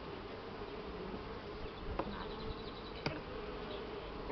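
Honeybees buzzing around hive boxes while honey supers are added to expand the colonies: a steady, dense drone of many bees close by, with a couple of faint clicks.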